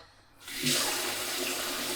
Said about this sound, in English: I'm going to fill it with hot water